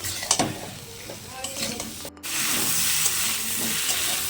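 Potato and cauliflower pieces stir-fried with salt in a pan, a steady sizzle with scraping and clattering stirs, growing to a louder, continuous hiss partway through.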